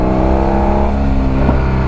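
A BMW F800GS motorcycle with a straight-pipe exhaust revving up close in a favela, a loud, dense engine roar whose pitch holds and then shifts briefly.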